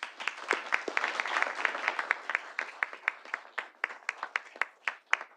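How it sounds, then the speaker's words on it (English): Scattered audience applause at a city board of directors meeting for a retiring judge, starting as a dense patter and thinning into sparse individual claps toward the end, fairly quiet and distant. "Let's give him a round of applause."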